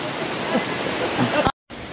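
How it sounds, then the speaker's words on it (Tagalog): Lintungan Falls, a popular waterfall by a river, gives a steady, close rushing roar of falling water that drops out for a moment before resuming. "Tignan natin ang Lintungan Falls."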